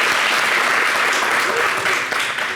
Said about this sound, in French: Je sens les applaudissements un peu maigrichons